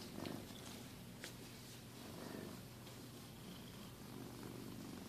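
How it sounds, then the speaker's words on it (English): A sleek black lap cat purrs steadily and softly up close, a continuous low rumbling throb with faint pulses of breath and no talking. "He is purring up a storm."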